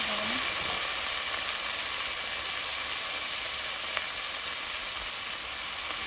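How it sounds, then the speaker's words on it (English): Beef liver frying with onions in a pan, a dense continuous hiss of sizzling fat that stays steady and loud throughout, heard up close with no voices over it. "So now I'm gonna put in the liver."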